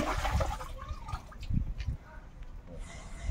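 Split fish for daing is rinsed by hand in water, a close, loud churning slosh and splash with gurgling swirls that settle into quieter dripping.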